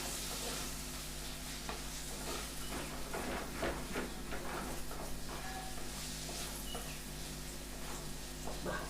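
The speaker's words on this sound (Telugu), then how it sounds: "వేసి మంచిగా నూనెలో ఇదంతా మగ్గించుకోవాలి." Spices and curry leaves sauté in oil for pepper rasam, giving a continuous soft sizzle with repeated scraping stir strokes in the middle. It sounds fairly faint and close, with no talking.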